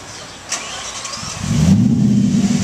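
A Spyker C8 Laviolette with a 510-horsepower V8 cranks and fires up, then settles into a loud, throaty idle with blips of revving, close up and alone.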